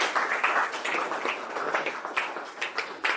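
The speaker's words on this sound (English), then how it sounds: "Can we have a big round of applause for him?" An audience at a cricket-themed gathering applauds a panelist with a steady, dense round of clapping that swells and dips throughout, fairly close and with no talk over it.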